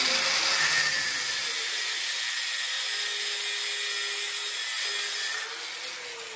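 A power tool saw cuts through a metal hanger rod during a ceiling installation, giving a steady, loud, sustained grinding hiss that runs almost unbroken before easing slightly near the end.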